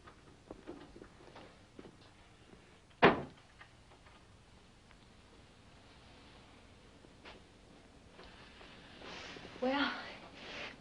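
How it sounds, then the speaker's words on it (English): A door closes indoors in a 1978 TV film scene, one muffled thud standing out early among quiet room noise, with faint rustling and a soft bump later. "Close the door."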